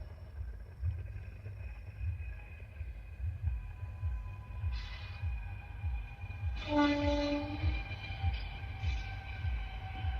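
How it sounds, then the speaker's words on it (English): A train rolls along a nearby railway with a constant low rumble, and its horn sounds out over the noise partway through, medium-distant, with no voices. "Sounds like there's a railway nearby."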